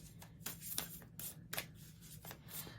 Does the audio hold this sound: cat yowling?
no